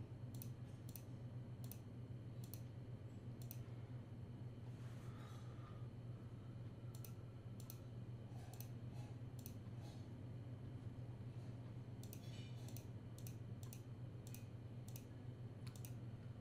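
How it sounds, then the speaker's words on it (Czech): A computer mouse clicks while points are selected in Photoshop, sharp, faint single and double clicks recurring irregularly over a quiet, steady low hum. "klikám prostě myší a označuju si to"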